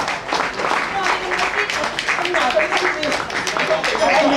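Guests at a celebration dinner for Oxfam Trailwalkers break into a steady burst of clapping to welcome Karen, dense applause lasting throughout, mixed with voices and cheers in the room.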